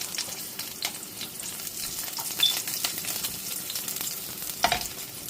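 Garlic and green chilies sizzle and crackle in a hot pan, a steady close frying hiss with occasional sharper pops and stirring scrapes.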